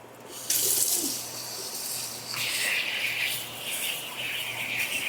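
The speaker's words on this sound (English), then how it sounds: "So I'm just gonna rinse this." Something is rinsed under a running kitchen tap while meal-prepping, with a steady hissing stream of water that changes tone as the item is moved under the flow, moderately close.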